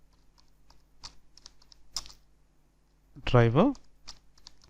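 Selenium code being typed on a computer keyboard, with light, irregular key clicks under and between a man's speech.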